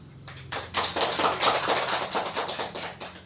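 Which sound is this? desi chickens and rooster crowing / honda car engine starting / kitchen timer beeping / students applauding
students applauding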